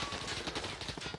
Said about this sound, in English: So everyone's shooting up here right now.